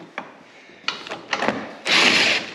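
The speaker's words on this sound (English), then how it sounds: "And then I'll use the drill to actually bring it in." A cordless drill drives a bolt into a ZRP front shock tower mount on a Can-Am Maverick X3, with a few short scraping knocks before a loud, sustained whirring burst near the end.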